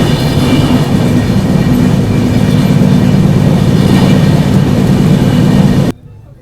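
Farakka Express rolling loudly and steadily along the rails near Dildarnagar Junction, a dense close rumble with rail clatter that continues for about six seconds before cutting off abruptly.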